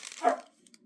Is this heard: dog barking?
yes